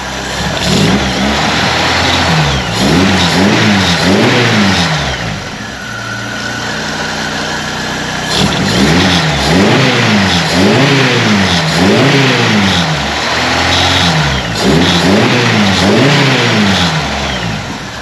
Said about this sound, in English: Thing's pretty loud for a little four-banger.